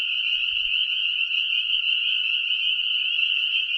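Spring peeper frogs call in a dense, continuous high-pitched chorus of shrill peeps that holds steady throughout, with no voices present.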